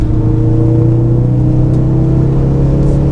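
A Ford Focus RS engine hums at a steady, loud drone with a low growl, rising slightly as it revs during downshifting on country roads, heard from inside the car with no talk.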